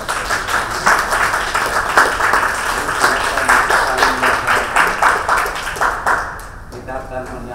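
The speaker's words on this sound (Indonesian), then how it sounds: "Boleh berikan tepuk tangan sekali lagi." Guests at a church wedding applaud in a full, steady round of clapping that fills the room for about six seconds, then fades as a voice begins speaking.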